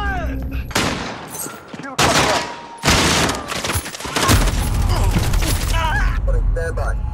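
Loud, dense bursts of automatic gunfire and explosions fill a military shooter game, with clustered volleys and blasts over the whole stretch, punctuated by shouted radio callouts and chatter.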